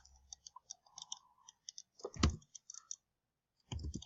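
Mouse clicks while working in CAD software: a few light, sparse clicks spread through a quiet stretch, close and faint, with a heavier thump in the middle and another near the end.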